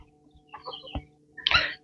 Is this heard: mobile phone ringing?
no